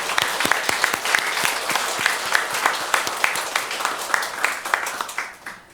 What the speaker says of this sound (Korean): 우리 주님께 감사와 영광의 박수를 올려드리겠습니다